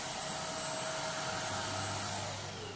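Vacuum cleaner running steadily inside the interior of a Toyota Supra Mk3, a loud continuous motor whine and airflow rush held for the whole stretch, its low hum shifting slightly partway through.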